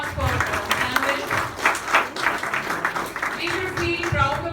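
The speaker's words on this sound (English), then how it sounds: "A big round of applause for Samuel." An audience claps at a formal event after a chief guest is welcomed, a burst of many hands that swells and fades over a few seconds, mixed with some background voices.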